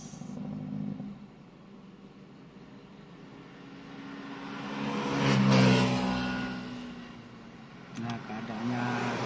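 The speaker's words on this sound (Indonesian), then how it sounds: "keramaian lalu lintas di luar kota" Busy road traffic on a road outside the city, a vehicle engine droning and swelling as it passes close by, with steady road rumble underneath and a second rise near the end.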